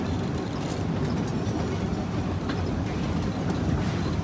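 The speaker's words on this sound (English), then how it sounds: "we are a logging train" A logging train rolls along railroad tracks in Yosemite, a continuous low rumble with faint rhythmic clatter of wheels, steady and moderately distant.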